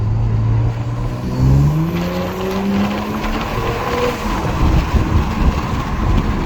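Turbocharged 2022 Audi S5 Sportback engine revving up hard, pitch climbing through several gear changes with a whooshing turbo whistle, loud and close over road rumble.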